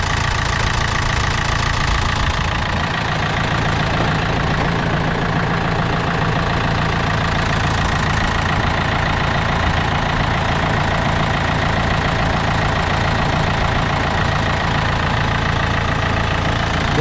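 A Yanmar EF453TLX tractor's engine idles steadily and loudly nearby, a constant low knocking diesel rumble with no talk over it.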